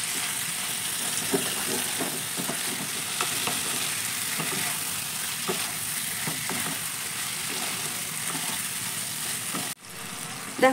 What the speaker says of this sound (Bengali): ফুলকপির সঙ্গে মশলাটা ভালো করে কষিয়ে নিলেই তবে গিয়ে এই রেসিপিটা খেতে খুবই ভালো হয়।